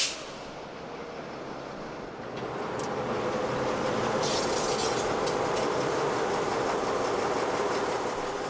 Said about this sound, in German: rollten die E-Loks abgebügelt in den Bahnhof